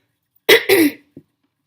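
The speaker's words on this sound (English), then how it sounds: "I have quite a bit of a cough right now" Two harsh, close coughs in quick succession from a man with a cough, followed by a short throat sound, loud and isolated against silence.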